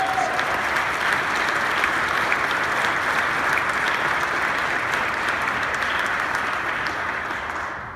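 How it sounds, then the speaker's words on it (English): A civic gathering's audience applauds two project leaders with a steady, even wash of clapping that holds for several seconds and then begins to fade. "Let's give them a round of applause"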